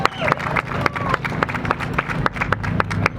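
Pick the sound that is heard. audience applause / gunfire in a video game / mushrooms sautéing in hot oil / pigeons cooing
audience applause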